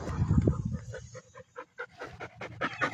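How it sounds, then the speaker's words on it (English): A German Shepherd mix with some Great Pyrenees pants close by in quick, rhythmic breaths, with a few softer pauses between bursts. "This is my dog, Rocky Mountain Belle. A German Shepherd mix with some Great Pyrenees,"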